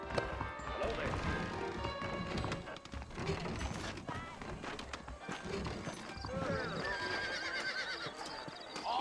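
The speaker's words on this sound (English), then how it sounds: "I got the horses saddled up and ready out front" Horses neigh and whinny over a steady patter of hooves in the Western video game Red Dead Redemption, with continuous game sound and voices mixed in throughout.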